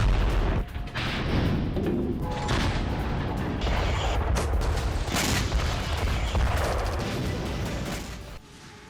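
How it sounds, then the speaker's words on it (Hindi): Artillery fire and explosions on a Russia-Ukraine battlefield: dense, loud booms and crackling blasts roll in back to back, with sharp bursts over a continuous rumbling wash that fades near the end. "तो आपने देखा जंग के मैदान में कैसे अभी भी बरस रहा है बारूद"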